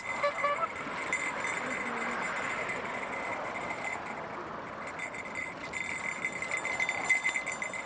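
Steady rolling road and traffic noise outdoors with a continuous low rumble and faint creaks, a pedal-powered bicycle taxi cruising along a street in Bells Corners.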